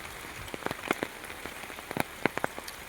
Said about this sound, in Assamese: আমাৰ ফালে একদম পূৰা বৰষুণ দিছে